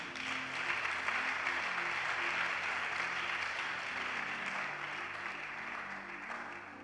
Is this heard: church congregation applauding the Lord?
yes